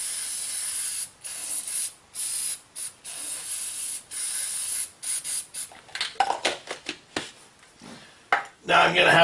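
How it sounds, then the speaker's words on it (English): Short hissing bursts of aerosol spray grease repeat in quick succession while servicing a rear pinion seal and yoke on a Chevy 2500 HD, followed by faint rubbing and handling noises; close and moderately loud. "let me get the spray grease"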